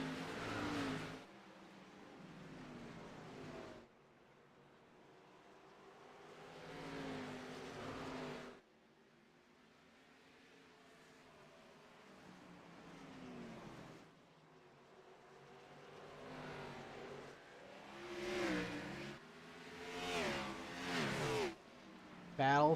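Stock cars in a racing video game at Martinsville roar and rev, their engine noise swelling and fading in repeated waves as the field gets up to speed, with talk running over the engines.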